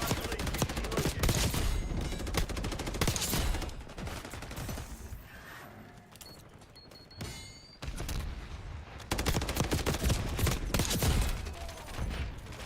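Rapid, dense gunfire from the video game Snowbreak, with sustained loud volleys that dip briefly in the middle before resuming at full intensity.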